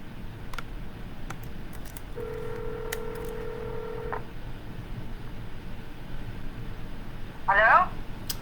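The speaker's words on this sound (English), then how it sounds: "just gonna keep on dialing. Smile and dial." A telephone is dialed for real estate cold calls: a few faint clicks, then a brief run of keypad tones, followed later by a short burst of sound near the end, with low background hiss.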